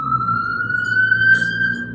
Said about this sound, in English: It's so funny that there's a siren going off.